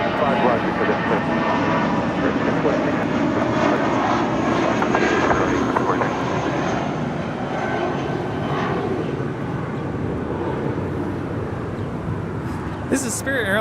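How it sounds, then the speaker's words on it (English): A Spirit Airlines Airbus A320 departs from Los Angeles International Airport, its jet engines roaring in a steady broad rumble that gradually fades, with people talking over it. "This is Spirit Airlines 1043 departing to San Antonio, Texas on an A320."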